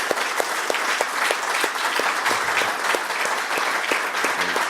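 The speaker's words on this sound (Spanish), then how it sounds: "Quiero un aplauso final para Eduardo." A university club meeting audience gives a closing round of applause for Eduardo, loud dense clapping with distinct rhythmic claps near the front, continuous and unbroken.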